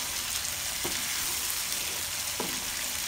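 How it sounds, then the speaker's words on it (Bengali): Fish kaliya masala with yogurt and cashew paste sizzles steadily in a hot pan, with two soft scraping stirs of a spatula over the continuous frying hiss. "নেড়ে চেড়ে ভালো করে মিশিয়ে নিব।"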